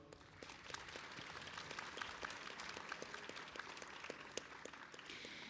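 Applause at a graduation ceremony and career fair, a steady wash of many hands clapping at moderate distance, even and sustained throughout.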